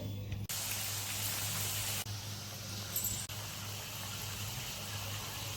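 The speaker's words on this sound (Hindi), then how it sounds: "अब पक रहे हैं और साथ ही बारिश शुरू हो गई।" A steady hiss of falling rain or spraying water, continuous and fairly close, over a low constant hum, with a few abrupt cuts.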